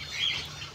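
Cockatiels at a bird farm give a brief burst of wing flapping with a faint squawk, heard at a distance and quiet.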